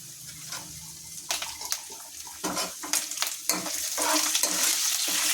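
Green chilies frying in hot oil with curry leaves, dried red chilies and garlic for a sorrel leaf (gongura) curry: a steady sizzle with sharp scrapes and clinks of a spoon stirring the pan, growing louder toward the end, with no voices.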